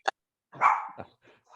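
A dog barks during an online meeting: a sharp short yap, then a longer bark and a few smaller yips, close and loud against silence.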